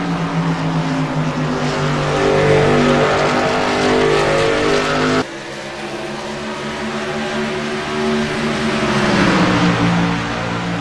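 Six race cars roar around a track mid-race in a sustained, loud engine drone with shifting pitch, a brief drop in level partway through before the engines swell again.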